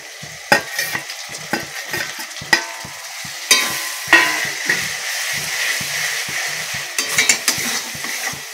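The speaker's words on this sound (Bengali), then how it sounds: "ভালো করে ভেজে নেবো, টমেটোর কাঁচা গন্ধটা চলে যাওয়ার জন্য।" Grated tomato frying with onion and ginger-garlic paste in a pan for rajma masala, a steady sizzle broken by repeated sharp clinks and scrapes of a spatula stirring against the pan.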